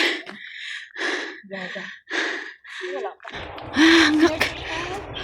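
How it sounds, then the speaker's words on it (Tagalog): Heavy, rhythmic panting from a hiker climbing steep steps in Hong Kong, about five loud gasping breaths close to the ear, followed by rougher breathing with brief vocal sounds. "Hinihingal ako."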